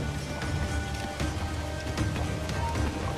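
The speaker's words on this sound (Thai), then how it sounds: "เม็ดฝนเม็ดฝน" Steady rainfall in the pirate-era game Assassin's Creed IV: Black Flag, a dense continuous patter of drops on surfaces with faint scattered splashes, fairly quiet and even throughout with no talking.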